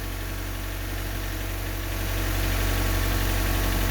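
A 1988–91 Honda Civic (EF9/ED7) engine idles steadily at close range, a constant low rumble with slight vibration that swells a little louder in the second half, with no talking.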